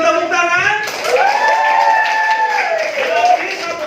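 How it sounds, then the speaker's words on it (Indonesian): A small group of teachers in a coaching session for academic supervision claps together, a light, scattered patter running under near, continuous voices and calls for most of the clip. "Beri tepuk tangan."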